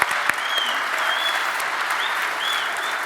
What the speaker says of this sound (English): I think this guy deserves a big round of applause right here